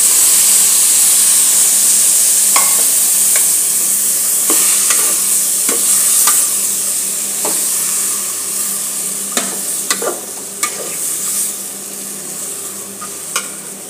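Black-eyed peas stirred in a cooking pan with loud continuous sizzling and steam hiss, punctuated by scattered scraping clicks of a spoon that grow more frequent toward the end.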